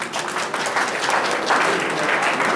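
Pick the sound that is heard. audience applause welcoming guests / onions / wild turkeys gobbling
audience applause welcoming guests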